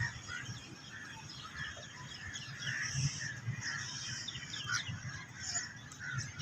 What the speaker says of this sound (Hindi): ये मैना का जोड़ा सुबह सुबह एंजॉय कर रहा है मौसम को।